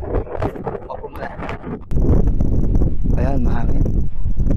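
Talking first, then heavy low buffeting of wind hitting the microphone, loud and constant, with a voice partly under the rumble.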